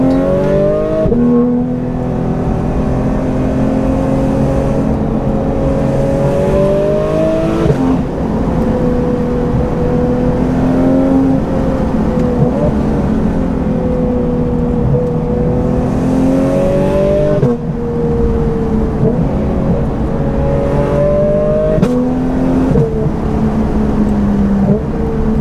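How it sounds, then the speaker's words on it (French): A Porsche GT3 RSR road car's engine with full intake drones loudly and continuously, pitch rising and falling as it revs through gears between 4000 and 6000 rpm on a winding road, heard from inside with the window open and wind noise. "pour ceux qui ont envie de profiter du son de la voiture, juste sans ma voix par-dessus"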